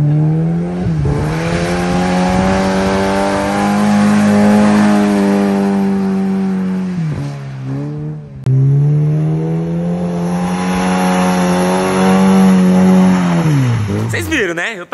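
A Chevette car drifting, its engine revving hard and holding high pitch through long sustained pulls with tire noise, then dropping and climbing again, loud and close throughout.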